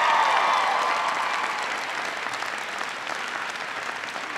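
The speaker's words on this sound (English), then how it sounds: "please thank Tim Dining for the wonderful introduction" Sustained audience applause fills a school hall at a New Hampshire presidential town hall, loud and dense at first and then easing slightly while it continues steadily, with no voices over it.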